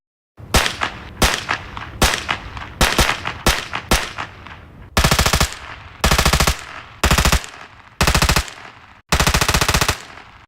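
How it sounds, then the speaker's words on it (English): An RDX X4 blank replacement unit fitted in a training weapon fires loud simulated gun reports: six sharp single shots at a steady pace, then five longer automatic bursts separated by brief pauses. "the X4 is made to remove the need for blanks and speaker systems, yet add the necessary gun report, essential for training."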